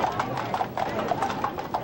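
Bay horses clip-clopping on pavement while leading a funeral procession, a brisk rhythmic run of hoof strikes close by at moderate volume, with a faint background murmur.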